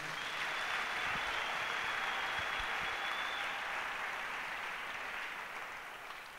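A church congregation applauding the Lord during a sermon, a dense, even wash of many hands clapping at moderate distance that holds steady and fades slightly at the end, with no voices over it.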